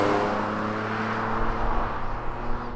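A cheap, roughly 200-horsepower Mitsubishi 3000GT accelerating, heard from inside with windows that do not close: a steady engine drone with a rising hum and wind rush, moderately loud throughout.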